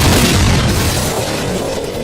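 A bomb goes off on a front gate in a TV crime drama. One loud, close, rumbling boom with dense low-end energy fills the short clip and fades slowly, with no voices.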